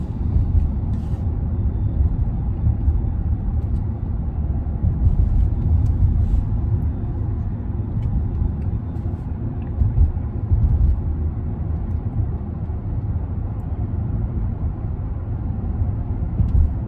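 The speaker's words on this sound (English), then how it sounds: "here's just a real life driving, you know, POV of how it is to drive a Range Rover" Inside a 2021 Range Rover SUV on the road, a low steady cabin rumble of engine and tyre noise continues evenly throughout, with no talking.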